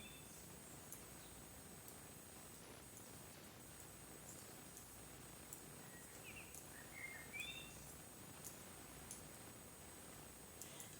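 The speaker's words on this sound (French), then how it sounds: "Vous entendez les petits oiseaux chanter." Small birds chirp softly outdoors, a few faint, thin tweets scattered over a steady hiss of background noise, distant and quiet, with no talking.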